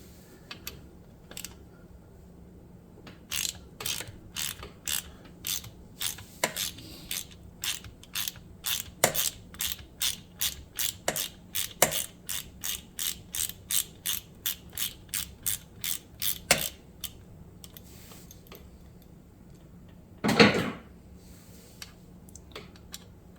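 A ratchet driving a 5mm Allen bit on a screw of a YZ250 shift detent clicks in fast, even bursts, close and crisp, followed later by a single louder clunk.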